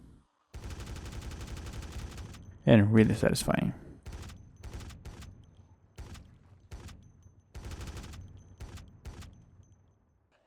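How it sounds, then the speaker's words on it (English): Loud gunfire from a heavy gun in the video game Project Zomboid, a dense burst of shots followed by several more short bursts spaced apart, with someone briefly talking over the shooting. "This gun is so loud, but it's really satisfying to use."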